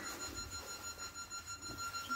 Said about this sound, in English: Fire alarm panel going off.